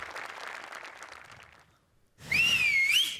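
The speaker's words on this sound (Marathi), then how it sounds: "ही शिट्टी होती ओमकार आणि नम्रतासाठी आणि श्याम्या तुझ्यासाठी" At a stage performance, an audience cheers and then one sharp whistle rings out, rising and wavering in pitch, loud and close after a brief lull.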